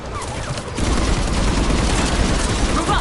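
A mounted gun fires in the shooter game Mass Effect Legendary Edition, loud dense bursts of rapid gunfire that become a continuous close volley.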